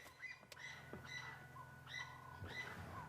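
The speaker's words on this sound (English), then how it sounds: "Something has made those francolins, those birds, very cross." Harsh, agitated alarm calls of francolins repeat in short bursts, fairly close, over a low steady hum with no talking, on a sunset safari.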